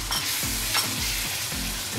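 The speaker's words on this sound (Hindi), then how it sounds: "इस तरह मिक्स कर लीजिएगा दही" A spoon stirs yogurt through chicken pieces in a hot pan, each sweep giving a scraping stroke over steady sizzling, in a rhythmic pattern of about four close, loud strokes with no talking.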